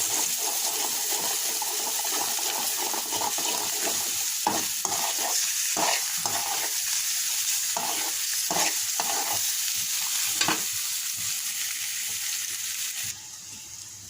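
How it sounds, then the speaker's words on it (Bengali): Beaten egg stirred into fried rice in a pan: a steady oil sizzle with repeated sharp scraping stirs of the spatula against the pan, close and loud, no talking. "এইবার ফেটা ডিম দিয়ে দিলাম মাঝখানে, দিয়ে এটাকে মিশিয়ে দিলাম।"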